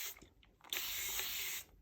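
A spray bottle mists water over cardmaking work. Two faint short puffs are followed by one long close hiss lasting about a second, with no talk.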